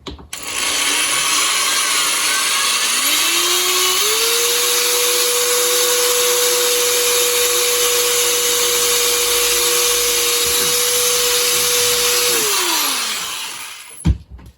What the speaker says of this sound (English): I'm going to go ahead and drill this out.